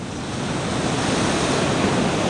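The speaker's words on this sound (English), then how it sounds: "Nice big waves behind us here." Big ocean waves crash against a rocky shoreline at a rock fishing spot, a loud, continuous broadband roar of surf with steady wash and some wind buffeting, with no voices.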